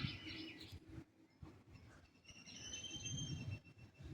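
Faint birds, including mynas, chirp and tweet in the distance over a low outdoor rumble, with thin high calls and squirrel calls scattered through the quiet background near coconut palms.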